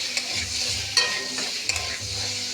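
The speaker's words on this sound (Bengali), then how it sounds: "এখন নাড়িয়ে চাড়িয়ে নিতে হবে।" Potatoes and soybean chunks are stirred in hot spiced oil, a spatula scraping the pan in a few distinct strokes over a steady, close sizzle, with no voices.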